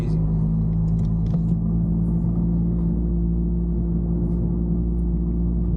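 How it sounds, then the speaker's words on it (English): Steady low exhaust rumble from a catless Toyota Camry driving through a Manhattan tunnel in traffic, a continuous droning tone at constant loudness for the whole stretch, with faint voices briefly in the background. "what you guys think about how the car sounds through that tunnel"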